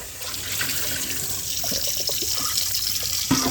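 Tap water runs steadily into a bowl while fresh homemade butter is rinsed and kneaded to wash out the buttermilk, a close, continuous splashing flow with small sloshes and a clunk near the end.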